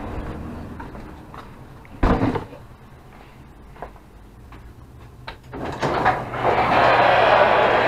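A garage door is pulled closed in a home workshop where a 2008 Yamaha V-Star 1100 is being converted into a trike. A sharp thump and scattered clicks lead into a steadily rising rolling rumble at the end.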